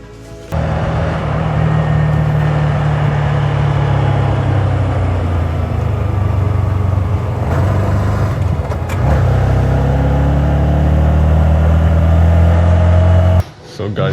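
Car driving on the road, with a loud, steady engine and tyre drone and shifting tonal hum throughout, briefly dipping near the end, with little other sound.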